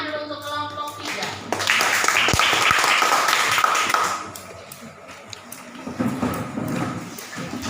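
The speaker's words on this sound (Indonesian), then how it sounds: "Kita berikan tepuk tangan dulu untuk kelompok 3." A classroom group claps together for a student team that has just presented, loud dense applause for a few seconds that tapers off, then scattered claps and light murmuring voices.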